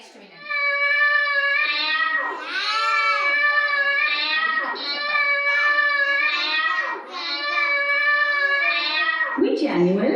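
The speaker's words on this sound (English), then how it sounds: "It's a cat." A domestic cat meows repeatedly in a loud, drawn-out wailing series, about five long cries across ten seconds, played alone as an animal-sound quiz for children.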